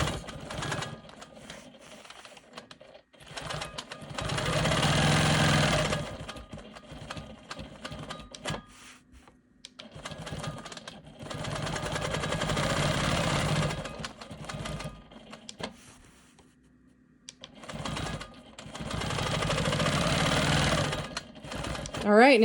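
A Quilt Maker Pro 20 longarm quilting machine stitches in the ditch around a green quilt square, its rapid needle chatter coming in long sustained bursts with pauses between, while someone talks intermittently nearby.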